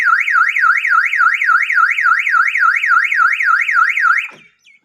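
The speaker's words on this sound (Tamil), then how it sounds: "அதனால் அலாரம் அடிச்சிருச்சுங்களா?" A loud electronic motorbike anti-theft alarm wails in a fast, rising-and-falling warble, repeating steadily for several seconds before cutting off abruptly.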